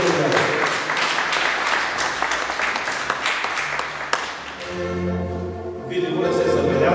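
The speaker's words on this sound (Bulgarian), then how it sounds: "Моля вашите аплодисменти." An audience at the Danube Limes tourism awards applauds a winner with steady, close clapping. Partway through, sustained musical tones come in as the clapping thins out.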